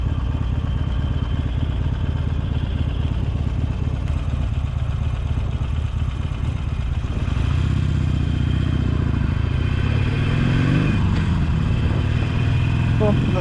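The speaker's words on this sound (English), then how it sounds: "I'm on a motorcycle." Motorcycle ride through New York City on a Veterans Day outing, with a steady engine drone and road rumble running the whole time, building louder and rougher about halfway through as the bike speeds up.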